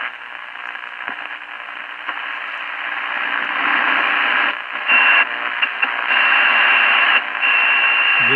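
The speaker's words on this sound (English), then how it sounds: "This is AM. This is the noise I'm used to hearing." Zenith Royal 51 AM/FM transistor radio with a tuner issue hissing with AM-band static, a loud close band of crackling noise with brief dropouts and shifts as the dial moves.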